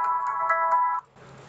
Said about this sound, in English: They're ringing back.